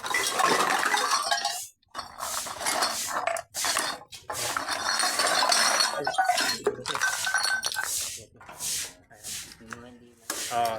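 Metal cans clink and rub against one another continuously while being sorted at a junk collection, with frequent bright clanks and brief pauses, fairly close and loud, with no speech.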